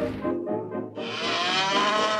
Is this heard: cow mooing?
yes